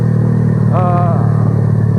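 A Yamaha Vega motorcycle riding at night gives a loud, continuous engine drone close by, with a brief tonal rise in the middle and no gaps.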